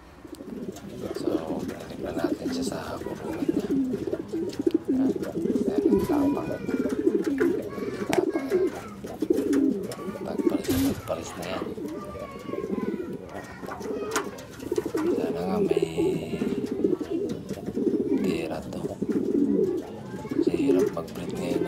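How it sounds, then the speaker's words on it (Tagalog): Pigeons coo repeatedly in low, throaty rolling phrases close by, with occasional wing flutters and rustling, while a person talks softly now and then in the background. "Mga kalapatids."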